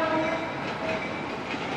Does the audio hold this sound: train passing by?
yes